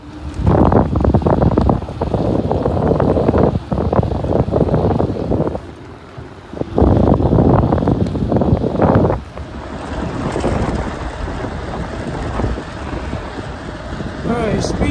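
Wind roars steadily over the microphone while riding an e-bike fitted with a puncture-proofed tire, loud and buffeting, easing into a quieter rushing hiss in the last few seconds.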